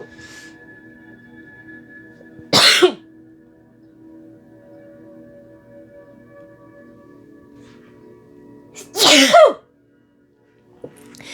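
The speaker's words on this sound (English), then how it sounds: "I'm going to sneeze 1 second." A woman sneezes twice, two sharp, loud bursts several seconds apart, separated by quiet room tone with a faint steady hum.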